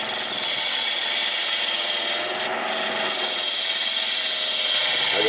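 A wooden bottle jig spins on a wood lathe as a knife cuts into it, giving a continuous, fairly loud scraping and rasping sound that holds steady throughout with no talking.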